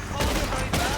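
Gunfire in the Red Dead Redemption 2 cowboy game, a brief burst of rapid shots with broadband bangs clustered near the start and again toward the end, loud and close.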